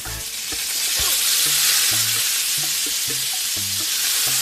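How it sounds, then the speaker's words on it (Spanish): Salmon fries in a pan with minced garlic and a squeeze of lemon. Loud continuous sizzling and spattering runs throughout, with soft clinks and low tonal thumps of cooking underneath. "Ya volteado del otro lado, agregamos ajo picadito y un chorrito de limón."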